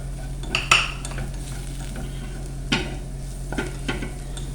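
Spices for aloo methi, a potato and fenugreek-leaf curry, are stirred in a frying pan, with a few scraping spoon strokes and soft clinks over a faint background hum and gentle sizzle.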